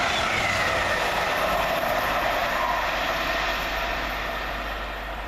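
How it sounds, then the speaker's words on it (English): Grand Central class 180 diesel unit 180-112 sweeping around a curve through Welham Green station at speed, a loud rushing roar with rhythmic wheel and rail clatter that slowly fades as the train passes. "Flying around the corner for Grand Central is 180-112, working 1 November 93 from London King's Cross to Sunderland"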